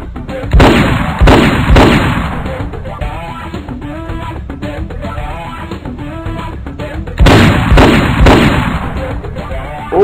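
Video game gunfire erupts in sharp, loud bursts: a pair of shots near the start, then a lull with lingering echoes, and another cluster of cracking shots toward the end.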